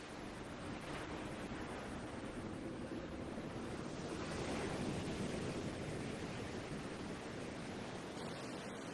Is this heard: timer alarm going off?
no